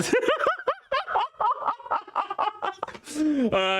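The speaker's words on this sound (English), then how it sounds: "Want me to fight the chicken?" A Minecraft chicken jockey in a video game gives a rapid run of short, close clucking calls, ending in a longer drawn-out squawk.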